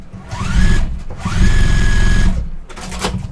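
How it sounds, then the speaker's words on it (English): A sewing machine backstitching a quilt seam: two short runs of fast, buzzing stitching with a brief pause between, then a shorter third burst, close and clear. "I'll just go over that point and backstitch a couple times"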